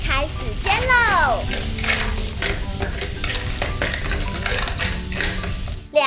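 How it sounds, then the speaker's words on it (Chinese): Toy cooking play with two shrimp frying in a small pan, a steady bright sizzle and scraping stir running throughout, with a voice and clattering toy pans mixed in, ending in a sharp knock. "一只虾，两只虾，开始煎喽。"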